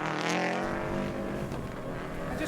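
A Subaru Group A rally car in full tarmac specification drives hard on tarmac, its engine note loud and close, rising and shifting through a corner.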